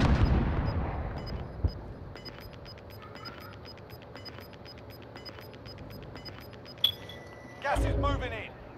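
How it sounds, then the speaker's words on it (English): A Call of Duty: Modern Warfare rocket launch opens with a heavy, booming whoosh that fades away, leaving quiet game ambience with faint metallic ticks and tones, before a short voice comes in near the end. "Launching rocket."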